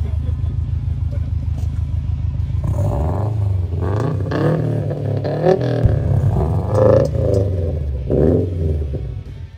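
A 2016 Subaru WRX STI with a big aftermarket muffler idles with a deep, steady pulsing rumble, then revs up and down in rising and falling swells, loud and close, with voices talking over it.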